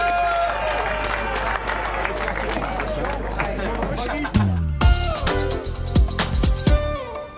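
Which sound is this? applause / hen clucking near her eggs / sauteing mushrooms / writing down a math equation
applause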